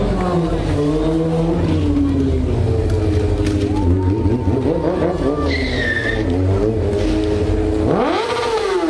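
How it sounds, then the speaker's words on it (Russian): Tires squeal and an engine whines and revs as a stunt car drifts at an outdoor motorcycle stunt show, loud and close, with crowd voices and speech mixed in. "И сейчас будет дрифт."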